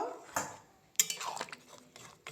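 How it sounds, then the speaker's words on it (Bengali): A potato and pea curry is stirred in a pot, giving faint, soft clinks and scrapes of a spoon against metal in a brief, quiet, irregular burst, with no talk. "এবার খুব ভালো করে নাড়িয়ে নেব"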